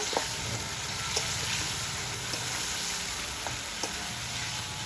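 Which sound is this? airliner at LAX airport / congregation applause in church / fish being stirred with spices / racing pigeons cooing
fish being stirred with spices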